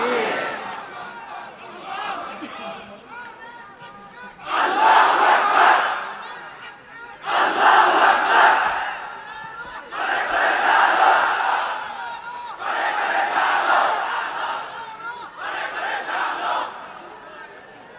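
A large crowd at an Islamic religious sermon (waz) roars the takbir chant in unison in response to the preacher, five or six loud swelling shouted bursts separated by brief lulls, echoing over open-air space.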